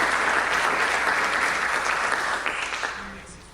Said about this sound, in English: So can we give it a round of applause for them?